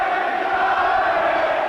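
A dense, continuous roar from a packed football crowd at an Oxford United versus Everton match in 1984, loud and sustained with no breaks.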